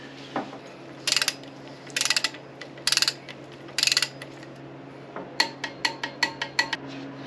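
A ratchet on a 66 Chevy Nova tightens the bolts of a flywheel adapter ring, heard close and alone as four bursts of rapid clicking followed by a run of six or seven shorter ratcheting strokes.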